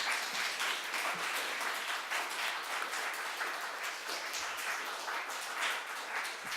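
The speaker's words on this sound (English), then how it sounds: "Give yourself a round of applause again for the first Democracy Day" A crowd at a Cleveland civic hearing breaks into sustained applause, dense steady clapping from many hands that holds evenly for several seconds without talk.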